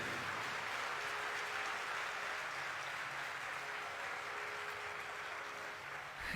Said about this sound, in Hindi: एक बार जोरदार ताली बजाइए जैन मुनि लोकेश जी के लिए